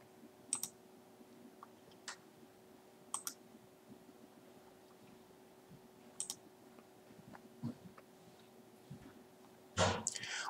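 Faint, sharp clicks of a computer mouse sound at irregular intervals, isolated taps scattered over a quiet background hum, with a louder burst near the end.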